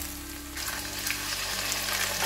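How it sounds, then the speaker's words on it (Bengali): Potatoes and onions fry in hot oil with ginger paste while a fish curry is being prepared. The sizzle is steady and crackling, with no talk. "এবার আলুগুলো ভালো করে ভেজে নেব"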